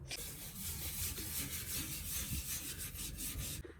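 Grime being scraped off a painted bar during cleaning, a steady close rasping rub that runs continuously for several seconds, then stops.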